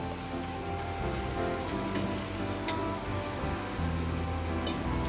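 Slices of elephant foot yam shallow-fry in oil on a pan, giving a dense, continuous sizzle with close crackling and popping that holds steady throughout.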